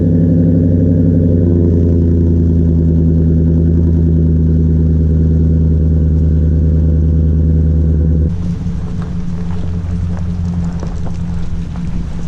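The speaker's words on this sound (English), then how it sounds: "I'm actually gonna get you a cold start real quick" A Chevrolet Silverado pickup truck engine on a cold start idles loud and close with a strong, steady low drone, then the tone drops abruptly partway through into a rougher, quieter rumble.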